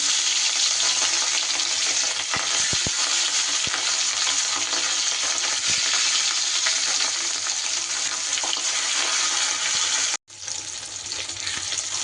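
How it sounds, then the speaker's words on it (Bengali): Fish fries in hot mustard oil in a wok with a loud, dense, continuous sizzle and occasional sharp ticks, with a brief cut near the end before the frying resumes, no voices. "তেল সুন্দর করে গরম হয়ে গেলে এবার আমি মাছগুলো ভেজে নেব।"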